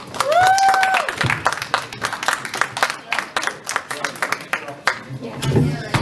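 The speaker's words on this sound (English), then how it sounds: "Give a big round of applause" Comedy club crowd applauding a comedian being brought on stage, dense clapping with a few whoops, while a voice carries over the top.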